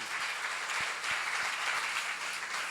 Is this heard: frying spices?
no